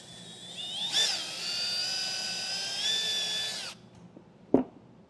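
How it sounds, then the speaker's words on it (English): A power drill whines steadily for a few seconds at high speed drilling a small hole for a light on a trailer brake controller install, then stops, followed by a single sharp click or knock. "I'll drill a small hole for the light."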